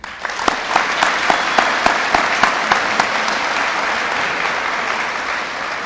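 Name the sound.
graduation audience applause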